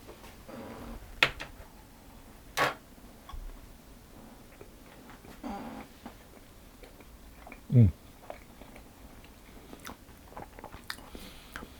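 A garlic, chive and cheese scone is eaten close up, with a few soft bites and crunches scattered over quiet chewing.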